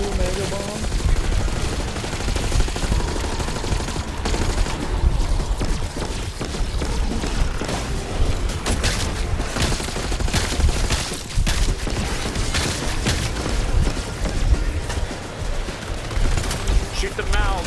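Sustained gunfire in Call of Duty Black Ops 6 Zombies, aimed at mega bomb enemies: dense, continuous automatic shooting with booms mixed in, loud and unbroken for the whole stretch.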